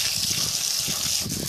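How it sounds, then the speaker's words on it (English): Water pours steadily onto potted plants with dry soil as they are given a thorough watering, a close continuous gushing splash. "So I'm just watering them thoroughly now."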